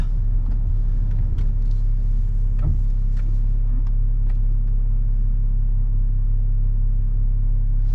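A 2018 Jaguar F-Type with a tan leather interior, heard from inside the cabin while driving: a steady low engine and road rumble holds throughout, with a few faint clicks and knocks over it.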